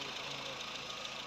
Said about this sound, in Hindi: अब ये गाड़ी स्टार्ट हो चुकी है